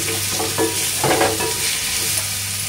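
Ginger, garlic and chili paste sauté in a pan under a steady sizzle, with a few close stirring scrapes swelling in the middle, alongside a low constant hum.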